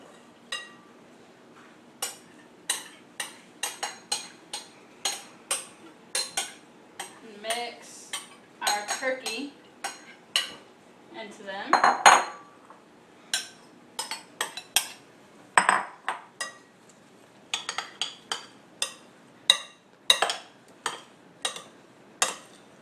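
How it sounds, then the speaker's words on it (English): Turkey pot pie vegetables and ingredients being stirred together in a bowl, with repeated clinks and scrapes of a utensil against the dish in an irregular rhythm, close and fairly loud. "we're going to mix our ingredients together"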